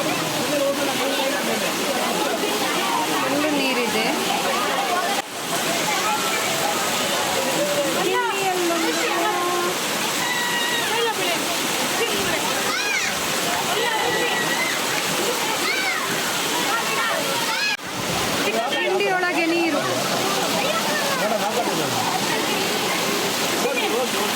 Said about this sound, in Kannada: ಕಿಂಡಿಯೊಳಗೆ ನೀರು ಮಳೆ ಬಂದಿತ್ತು ಹಾಗೆ ಫುಲ್ಲು ನೀರಿತ್ತು